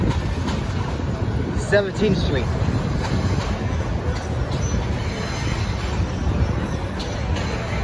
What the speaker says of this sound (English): This is the MTA subway Q train.